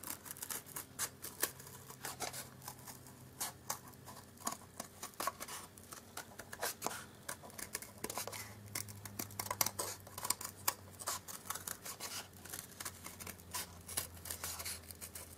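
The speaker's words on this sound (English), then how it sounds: "just cut following the line, but just inside it" Scissors cutting fabric along a marked line to make a crown pincushion base, a steady run of close, quiet snips and crisp rasping cuts with a faint hum underneath and no talk.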